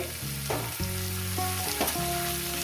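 Catla fish head sizzling and frying in a pan with turmeric, a steady close frying hiss over a low background hum, with no voices.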